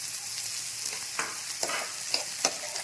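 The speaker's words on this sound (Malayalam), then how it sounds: "ഇനി ഇതിൽ ഈ വെട്ടിയ സ്പോഞ്ചി ഗാർഡ് പീച്ചങ്ങ ഇട്ട് കൊടുക്കും" Chopped sponge gourd sizzling steadily in a hot pan, with a continuous frying hiss broken by a few sharp crackles and stirring clicks; no talking.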